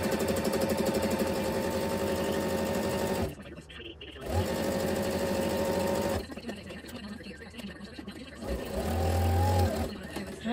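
A sewing machine stitching a graduation stole runs in fast, loud, whirring bursts, stopping twice briefly between runs, while people talk nearby.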